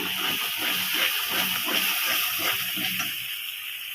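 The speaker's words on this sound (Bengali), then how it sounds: "এখানে আমি আরও একটু জল দেবো" Water is poured steadily into a cooking pot while preparing a Bengali rohu fish curry with white poppy seed and mustard paste, a continuous close, hissing splash with no talk.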